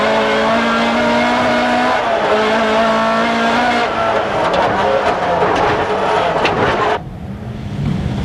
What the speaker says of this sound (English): Straight lies ahead, and right up into 5th gear and well over 100 miles an hour.